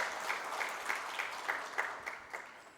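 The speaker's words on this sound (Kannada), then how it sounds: "ಮತ್ತೊಮ್ಮೆ ದೊಡ್ಡ ಚಪ್ಪಾಳೆ" A crowd at a state-level Kannada conference of human resources professionals applauds together in a fairly rhythmic, evenly pulsing clap, soft and somewhat distant, for about three seconds.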